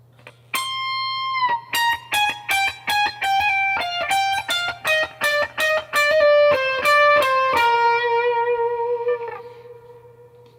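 Electric guitar plays a solo section slowly, a run of separate sustained single notes picked one after another in a clear, evenly spaced rhythm, ending on a longer held note, close with a faint steady hum beneath.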